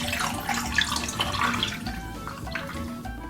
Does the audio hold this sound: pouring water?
yes